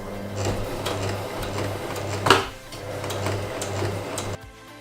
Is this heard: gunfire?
no